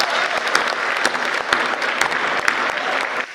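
Audience at a Hindi poetry recital (kavi sammelan) breaks into steady, dense clapping, a continuous close-up wash of many hands with a few sharper claps standing out, lasting a few seconds before easing slightly at the end.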